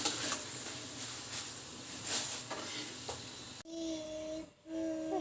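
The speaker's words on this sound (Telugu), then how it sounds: "ఇక్కడైతే పొంగుబూరలు వేస్తున్నానండి" Pongu buralu, balls of urad flour batter mixed with jaggery, fry in hot oil with a steady loud sizzle and occasional stirring clinks, then the sizzle grows quieter and softer near the end.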